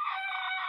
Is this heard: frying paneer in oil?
no